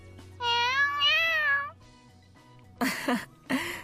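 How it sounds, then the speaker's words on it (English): A cat in the video game Gakuen Heaven 2 meows twice in long, rising-and-falling cries, close and clear, followed by a few short rustling bumps. "He's meowing really cutely."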